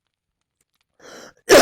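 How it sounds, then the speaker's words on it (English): After near silence, a single short cough bursts out at the end, preceded by a faint muffled sound. "Didn't want to cough at everyone's ear on stream"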